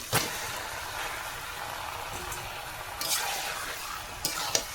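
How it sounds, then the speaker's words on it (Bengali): Chicken is tipped into a fried masala and stirred while it cooks, making a continuous moderate sizzle broken by a sharp clatter at the start and a few scraping knocks of the spoon against the pan, with no voices. "মাংসটাকে ভালো করে কষাবো এই যে চিকেনটাকে ঢেলে দিলাম"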